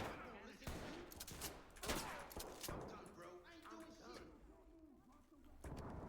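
Gunfire in the tactical shooter Ready or Not, several sharp shots in quick bursts mixed with dense game noise, while players talk over it.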